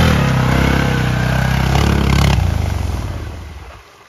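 An ATV engine revs loud and close in a steady, rough drone, holding high before winding down and fading away near the end.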